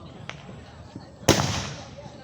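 A single loud firework pop bursts up close amid people's chatter, followed by a short hissing crackle as it fades, with a couple of faint earlier snaps before it.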